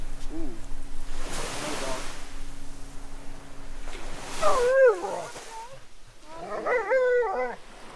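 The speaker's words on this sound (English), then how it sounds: "The local dogs are coming to say hello." Nearby local dogs on a beach in Fiji let out a few howling, whining barks in short bursts over a steady rush of wind and surf.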